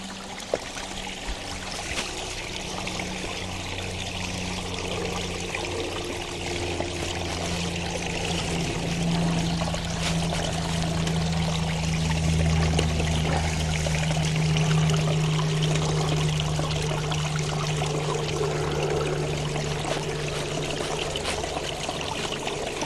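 Steady rushing water of a waterfall on Celo Knob in North Carolina, a constant broad wash that holds evenly throughout with no voices, heard from close by after a climb.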